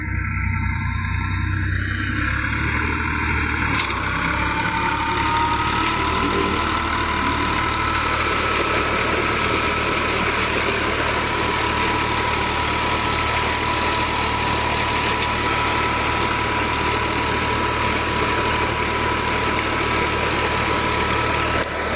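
A tractor engine powering a village tubewell runs loud and close in a steady, unbroken drone. A faint higher whine sits over the deep engine rumble throughout.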